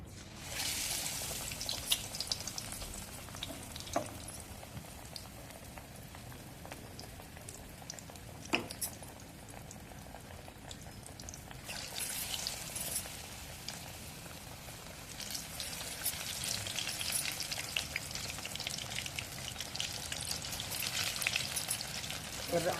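Round tomato slices dipped in batter fry in hot oil as bajji, a continuous close sizzle and bubbling with occasional louder crackles and stirring clinks, swelling toward the end.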